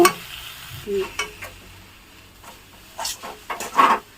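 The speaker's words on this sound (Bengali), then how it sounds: "একটু শক্ত করে নাড়াতে হবে যেমন নাড়ু করে অমনি নাড়ুর মতো একটু শক্ত শক্ত করে পুরটা তৈরি করে নিতে হবে" Semolina filling for steamed bhapa pitha is stirred firmly in a pan, giving scattered scraping swishes and soft sizzle bursts, quiet pauses between strokes.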